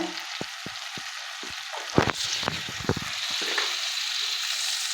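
Ground spices with cumin and turmeric frying in a pan for a fish recipe, a steady sizzle under scattered clinks and scraping stirs.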